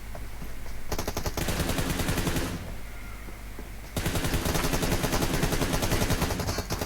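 Rapid bursts of pistol fire in the mobile battle game PUBG Mobile crackle loudly and close, in two dense volleys separated by a short pause, with no voices.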